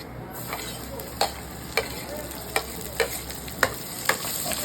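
Garlic frying in oil in a pan: a steady close sizzle with regular scraping stirs, each stroke a brief crisp tap about every half second.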